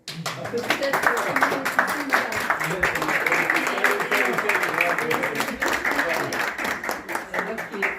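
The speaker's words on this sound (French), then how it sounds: "Et applaudissez-les." A crowd at an iftar dinner held inside a large Brussels church applauds the organizers, with close, sharp individual claps forming a continuous round and voices talking and cheering over the clapping throughout.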